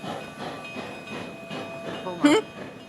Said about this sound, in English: And you hear the hiss of the brakes, and the train, invisible train possibly, squeals to a stop.